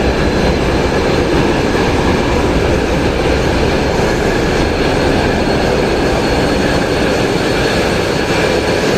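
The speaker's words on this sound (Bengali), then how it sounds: "ইঞ্জিন অবশ্য চালু দেওয়া আছে।" Passenger launch engine running steadily in its engine room on the Barishal route, a loud, continuous heavy mechanical roar and rumble that holds unbroken throughout.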